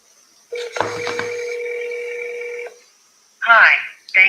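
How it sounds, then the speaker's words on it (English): A cell phone call being placed: a steady electronic tone with a few quick key tones over it, then a pause before short bursts of an automated voice answering. "Let's call him on the cell phone."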